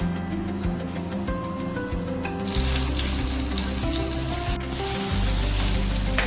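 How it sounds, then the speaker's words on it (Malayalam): Fried cashews and raisins being added to kadachakka (breadfruit) payasam, with a loud continuous frying sizzle and hiss, a sharper burst of crackling partway through, and a low steady hum underneath. "ഇത് നമുക്ക് കശുവണ്ടിയും മുന്തിരിയും കൂടെ താളിച്ചതിടാം"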